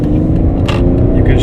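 A BMW with an SMG II sequential gearbox drives along, its engine a steady low drone under close talking; no distinct gear shift stands out in the short stretch.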